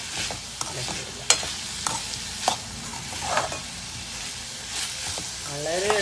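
Green banana thoran with grated coconut stirred in a pan gives a low continuous sizzle punctuated by sharp scraping strokes and taps of the spoon, close by, with a faint voice stirring near the end.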